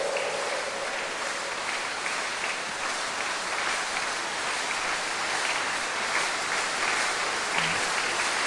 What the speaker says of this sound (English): That's not the kind of clapping that will cause God to arise.